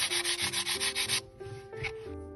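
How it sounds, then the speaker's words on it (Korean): Carved wood being sanded by hand with fine sandpaper: rhythmic back-and-forth rubbing strokes, about six quick even passes, then slower, softer scrubbing, close and clear with no talk. "사포는 거친 사포질이 다 끝난 다음에 고운 사포로 거칠어진 표면을 한 번 더 마무리해 줍니다"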